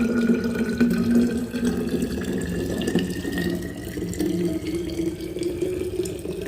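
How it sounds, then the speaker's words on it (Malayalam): Freshly boiled drinking water poured from a pot into a flask, a steady continuous splashing pour held close and fairly loud throughout, with no talking. "ഫ്ലാസ്കിലേക്ക് ഒഴിച്ചു കൊടുക്കുന്നുണ്ട്."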